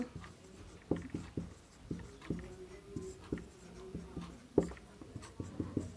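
Pen scratching out math notes on paper, a run of irregular strokes and taps with short pauses, close and fairly quiet, no talking.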